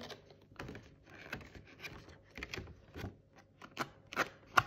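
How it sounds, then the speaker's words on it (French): Several crisp snips and rustles of laminated paper being cut, irregular and close, with quiet handling noises between the cuts. "ça coupe comme il faut, hein, ça m'a pas déchiré le papier."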